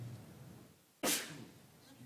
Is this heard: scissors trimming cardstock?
no